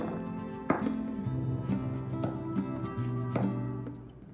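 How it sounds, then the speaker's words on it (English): A knife chops cucumber on a board in a home kitchen, striking about five spaced, sharp chops over a steady tonal background. No one talks. "Gonna chop up some cucumber."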